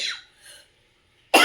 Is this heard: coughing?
yes